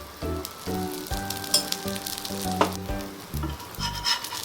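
Aval (flattened rice) cutlets frying in oil in a pan, giving a loud, steady, close sizzle with crackling bursts and no talk.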